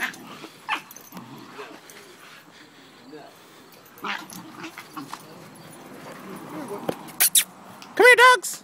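Pitbulls and a rottweiler puppy whimper and yelp in scattered, irregular bursts, ending with a louder, higher whine. People speak in between.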